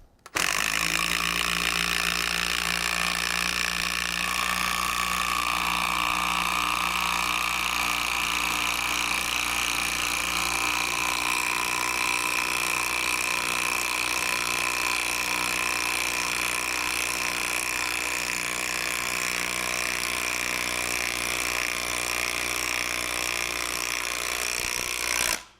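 A power tool drives screws into a wooden anvil stand, a loud, steady whirring motor heard close and continuously for the whole stretch.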